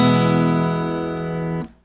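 An acoustic guitar strummed once after every string is tuned. The full in-tune chord rings rich and close for over a second, then is cut short by a quick damping.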